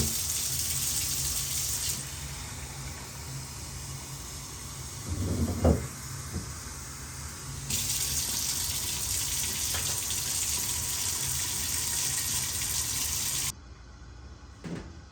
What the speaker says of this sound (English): Next, I'm going to measure out 1 liter of water.